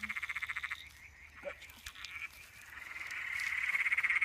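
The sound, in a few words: emerald spotted tree frog calling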